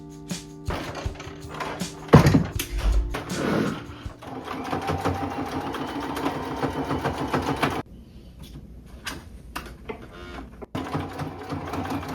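Sewing machine stitching clothing alterations, rapid mechanical whirring in bursts that start, stop and restart, with a brief pause partway through; loud and close.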